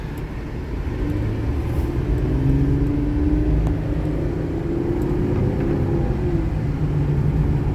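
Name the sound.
2002 Buick Regal engine running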